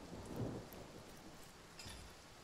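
Rain and thunder ambience from the video game Divinity: Original Sin, a steady hiss of rainfall with a low rumble swelling early on, moderately loud and without voices.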